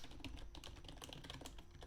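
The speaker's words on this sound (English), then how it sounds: "I'm sorry for my typing noises." Computer keyboard typing during a voice-acting livestream, a steady patter of quick close key clicks with no talk over it.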